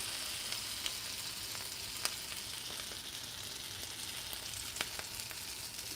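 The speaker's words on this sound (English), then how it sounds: "you're going to stick it in the oil" Tuna patty frying in hot oil, a steady soft sizzle with scattered small crackles and pops throughout, no voices.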